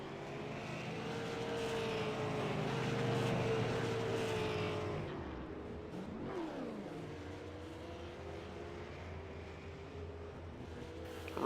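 Super late model dirt race cars blast past on a dirt track, a loud engine roar that peaks then drops in a sharp pass-by sweep, followed by a steadier drone of more cars circling.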